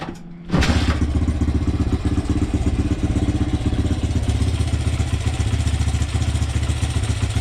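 A Honda XR100 motorcycle with a 120cc big bore kit fires up after a quiet moment and settles into a steady, even idle, loud and close with a rapid thumping exhaust beat.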